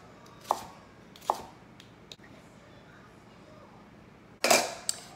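Knife chopping a jalapeno on a cutting board: two sharp isolated chops, a faint tick, then a quick louder burst of cuts near the end, all close with quiet room noise between.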